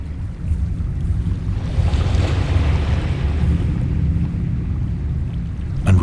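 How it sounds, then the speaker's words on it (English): Small wavelets wash against the base of a huge stone monolith at the bottom of a chasm in the Dagon narrative game, a soft continuous surging hiss over low wind-like rumble. "The wavelets washed the base of the cyclopean monolith."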